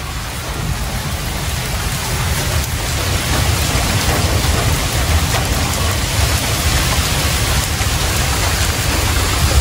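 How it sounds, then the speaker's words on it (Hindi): Heavy rain pours down steadily, a dense, loud hiss with no pauses and no voices. "इस टाइम जी अच्छी खासी स्पीड नाल बारिश होना शुरू हो गई।"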